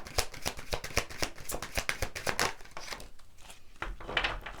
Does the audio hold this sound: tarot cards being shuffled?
yes